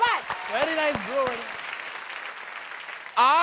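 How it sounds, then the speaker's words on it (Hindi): Loud applause from a studio audience bursts in right at the end, after a stretch of a voice speaking over quiet background. "वेरी गुड, जोरदार तालियां।"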